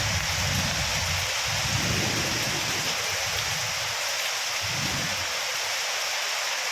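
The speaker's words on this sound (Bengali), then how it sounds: "হাওয়াও দিচ্ছে বজ্রপাতও হচ্ছে কন্টিনিউ হয়ে যাচ্ছে" Heavy rain pours steadily with wind, a dense continuous hiss filling the scene, while low rumbles of thunder roll in and fade in the background.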